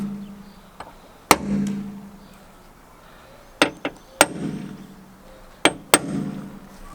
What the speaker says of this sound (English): now that we're drilling open the spot welds, you want to penetrate the first layer of sheet metal